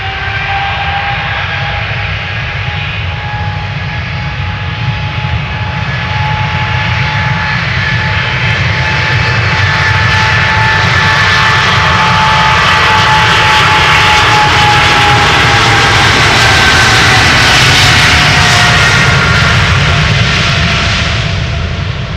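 An Air Canada Boeing 777-300 jet airliner takes off at Schiphol's Polderbaan runway. A loud, steady engine roar fills the whole stretch, swelling slightly as the aircraft passes close by.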